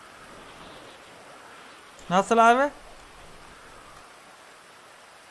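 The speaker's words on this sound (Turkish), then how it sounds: "Yağmur sesinden dolayı." Steady rain falling as a constant soft hiss throughout, with someone briefly speaking over it midway.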